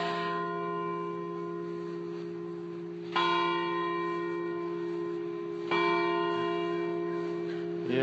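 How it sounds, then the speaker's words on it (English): Church bells ring out at North Christian Church in Columbus, Indiana, with sustained, resonant tolling and fresh strikes landing about every two and a half to three seconds, loud and close. "Didn't realize there were bells here."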